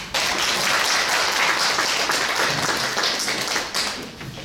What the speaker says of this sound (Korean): 신부님을 박수로.